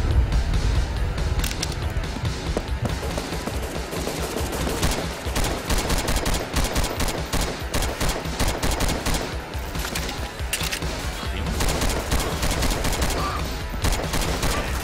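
Minigun and other gunfire in BrainBread 2 rattle in dense, rapid, unbroken bursts, loud and close, filling the whole stretch with little pause and no talking.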